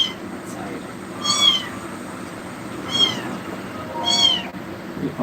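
Kittens meowing very loudly in repeated piercing cries, three distinct drawn-out meows spaced about one and a half seconds apart over a low background hum, close by.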